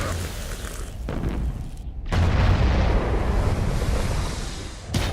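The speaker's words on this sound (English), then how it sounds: "The explosion is as much as you'd expect in terms of a nuclear blast" A nuclear bomb detonation in a movie scene, a loud sustained roaring blast with a deep rumble that surges after a brief pause and rolls on for several seconds.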